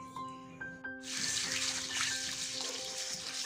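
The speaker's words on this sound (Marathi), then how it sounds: "मूग चांगल्या प्रकारे आपण धुवून घेतोय भाजलेले" Roasted mung beans are rinsed in water in a village kitchen, with a steady splashing, running-water wash that starts after a second of quieter clinks and continues close and moderately loud.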